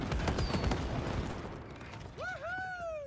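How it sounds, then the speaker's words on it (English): Fireworks in the video game It Takes Two: a rapid crackling burst of pops and bangs up front, then fading crackle followed by rising whistling tones near the end. "Fireworks."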